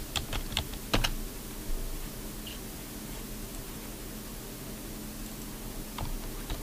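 Short bursts of keystrokes on a computer keyboard, close and fairly clear, clustered near the start and again near the end over a steady background hiss.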